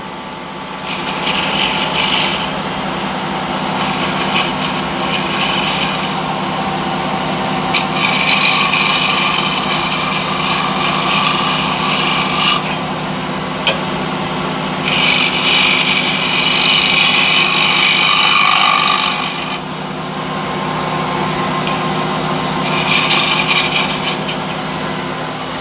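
A power grinder sharpens a square wood-turning scraper, a steady motor whine running throughout with several longer stretches of harsher, brighter grinding as the steel meets the wheel, then easing off between passes.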